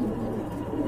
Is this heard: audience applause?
no